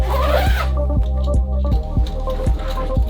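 A zipper on a slightly bigger, heavier wheeled case is dragged open in short repeated pulls, several rasping strokes at a steady rhythm, close and fairly loud.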